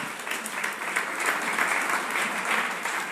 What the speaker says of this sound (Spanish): Dale aplauso fuerte al Señor.